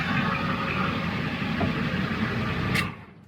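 A straight-piped 7.3L Power Stroke diesel in a van drones steadily at a constant pitch, then cuts off abruptly, leaving near silence.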